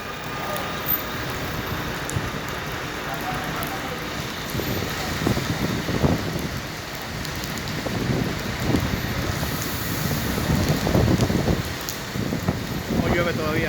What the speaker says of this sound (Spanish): Como llueve todavía, mira.